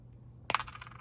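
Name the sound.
wire cutters trimming the back off a craft piece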